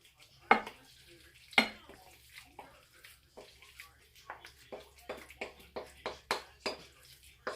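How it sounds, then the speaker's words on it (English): A cheesy vegetable casserole mixture is dumped and scraped into a baking dish, with wet, thick plops and a run of quick, soft scraping taps, close by, with background noise. "I'm going to go ahead and dump it all in here"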